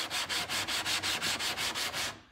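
Sandpaper rubbing back and forth on a Samson block plane with alcohol as lubricant, making about ten even, rhythmic raspy strokes in quick succession, loud and close, with no talk.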